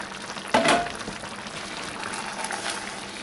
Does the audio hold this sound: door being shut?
no